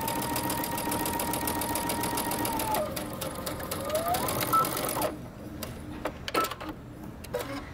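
Sewing machine back-stitching a coat seam, a fast steady mechanical whir with rhythmic needle clatter, then slowing and stopping into scattered clicks and handling noises, close and loud.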